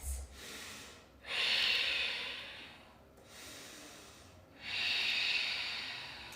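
Slow, deep breaths during a yoga hip-opening pose, two long airy inhales and exhales drawn close to the microphone, rising and falling in an even rhythm without speech.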